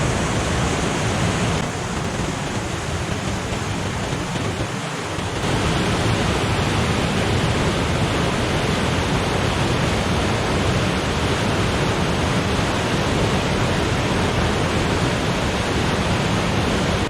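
Rushing water of the Orange River after recent rains, a steady loud broadband roar that fills the whole clip with no pauses, close and constant.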